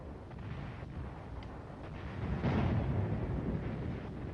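Enemy artillery fire in Korea rumbles faintly in the distance, a low muffled boom swelling midway through amid steady background noise, with no voices.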